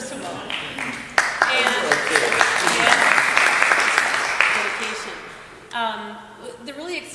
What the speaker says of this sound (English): So that's why I think he deserved a round of applause, first of all.